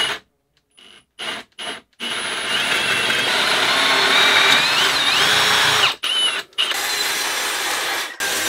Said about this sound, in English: if we drill this radius here while everything's still connected